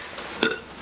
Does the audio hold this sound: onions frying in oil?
no